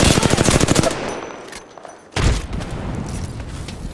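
Rapid automatic gunfire in Apex Legends rattles loud and close, stops for about a second of near silence, then resumes with heavy booming shots.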